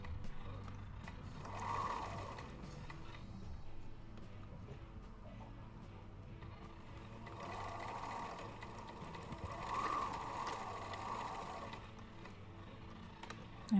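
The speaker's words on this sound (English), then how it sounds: "drop my needle in, put in a little bit of a lock stitch" A sewing machine stitches slowly around a small fabric circle, its soft mechanical whir coming in short runs with pauses between, faint and close.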